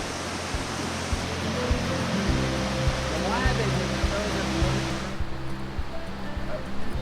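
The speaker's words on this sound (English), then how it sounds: "I miss the sound of running rivers like that." A river rushes steadily below a scenic overlook in West Virginia, a loud broadband wash of running water filling the whole clip as people talk over it before the roar eases slightly near the end.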